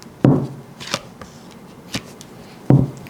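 A tarot deck gets cut and shuffled by hand. Two sharp riffling snaps stand out, with quieter card flicks and taps in between and no talking.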